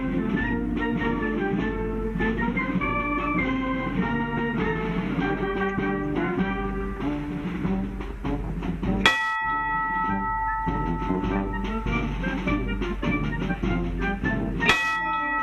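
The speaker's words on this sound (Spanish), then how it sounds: "sargento Levante Medina, por favor, toque una campana para que todo el regimiento se entere que usted ha ingresado al mismo" A regiment bell rung by a sergeant at an Argentine military ceremony honoring the Malvinas fallen, heard amid dense tonal ringing and crowd sound, with two sharp strikes standing out near the middle and end.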